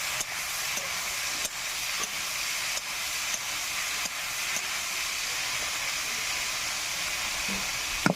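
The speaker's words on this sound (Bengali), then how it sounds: "মাছগুলো সব ভেজে নেব সবটাই দিয়ে দেবো খুঁটি দিয়ে নাড়িয়ে নেবো" Prawns fry in hot oil while a spatula stirs them, giving a steady, loud close-up sizzle with light scraping clicks recurring throughout.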